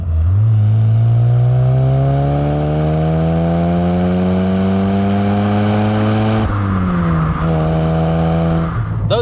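A loud Ford Fiesta RS1800 engine revs steadily higher, its pitch climbing for several seconds, drops briefly and then climbs again, up close with a raw, throaty tone.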